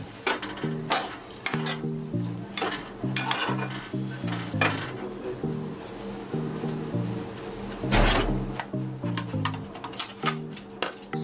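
Peanuts being stirred into a tomato chutney in a pan: repeated close metallic scrapes and clinks of a spoon against the pan over a light sizzle, with no talking.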